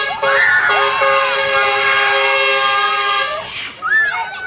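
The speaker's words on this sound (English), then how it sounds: "A big truck drove by and honked their horn to show their support." A loud truck air horn blares in one long sustained blast, then trails off with a short fading honk near the end.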